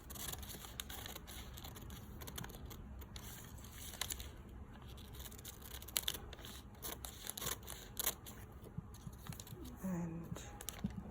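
Scissors snip through fabric while a dress piece is cut out from a miniature pattern, a quiet run of close, irregular crisp cuts and rustling at low level.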